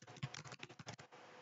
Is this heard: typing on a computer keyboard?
yes